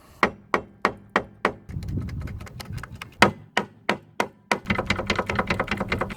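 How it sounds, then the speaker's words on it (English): A mallet strikes a stiff, seized brake caliper on a Jaguar XJ6 X300, giving a close run of sharp, evenly spaced knocks and then faster clusters of blows mixed with rattling metal. "this caliper should come off, but it's a bit stiff, so just get a mallet"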